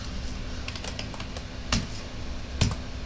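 Keys clack on a computer keyboard as a hostname is typed into a Linux config file, scattered close taps with a couple of firmer strikes over a low steady hum.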